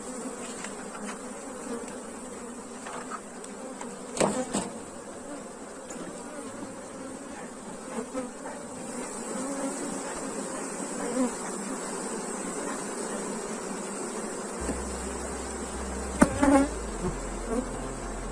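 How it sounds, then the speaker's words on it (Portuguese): A honey bee swarm hums in a dense, steady buzz as the hive is opened, close and continuous, with a few soft knocks and handling clicks of the hive box. "vou até abrir logo aqui esse enxame para me explicar isso"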